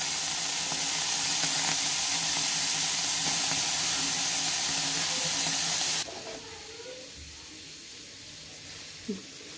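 Tomatoes roast in a pan for a tomato chutney, a dense hissing sizzle that holds steady for several seconds, then drops abruptly to a much quieter crackle with a small knock near the end.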